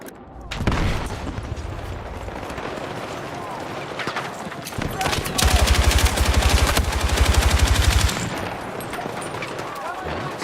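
A light machine gun fires in Battlefield 6, loud and close, in a long stream of rapid shots that swells into a heavier sustained burst midway before stopping, with battle noise around it.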